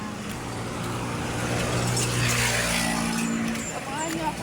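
Steady roar of car traffic on a sunny Philippine street, engines and tyres rumbling continuously with a swell as vehicles pass close by, someone talking over the noise.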